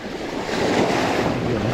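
Sea waves wash in at high tide along a Caribbean shore, a loud, close rush of surf mixed with wind buffeting the microphone, with no talking.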